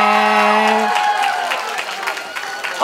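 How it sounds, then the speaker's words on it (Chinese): A party audience claps and cheers for a dance troupe from Yilan. A brief sustained tone effect opens the clip, then dense applause continues throughout at steady volume. "掌声加音效给我们宜兰泰雅妹妹"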